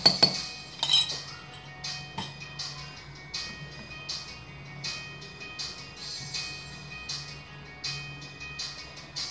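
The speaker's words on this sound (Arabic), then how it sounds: "نحركو مزيان اخواتي، مزيان حركو الكيك ديالكم" A utensil stirs gluten-free almond flour cake batter in a bowl, giving soft, rhythmic clinks and scrapes that repeat steadily and close by, with a few sharper knocks at the start.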